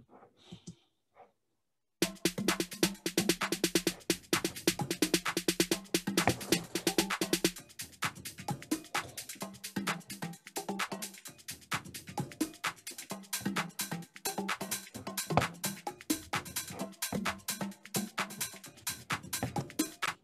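A full drum groove with congas and hats plays together as a busy, steady pattern of sharp, close hits and ringing tones, running unbroken for about eighteen seconds after a brief start, with no talking.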